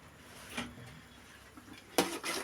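Boondi for laddu being stirred in a large pot, giving soft scraping with a few sharp metallic clinks and one louder clatter near the end; nearby and fairly quiet, with no talking.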